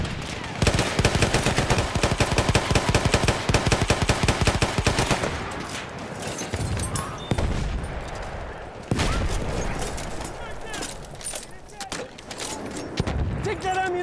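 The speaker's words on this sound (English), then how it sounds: "That's an enemy machine gun!" Sustained enemy machine gun fire in a Battlefield 1 battle over an objective, rapid and loud bursts that taper into scattered shots and explosions, with game voice lines calling out in the mix.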